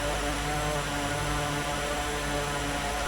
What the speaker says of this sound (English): Aircraft sounding a bit like an angry bee here.